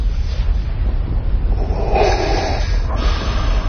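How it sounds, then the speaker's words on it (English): Heavy, rasping breathing in a Star Wars-themed Burger King commercial, slow and close, with a rough airy texture and a low rumble underneath throughout. "They're just staring at each other and breathing."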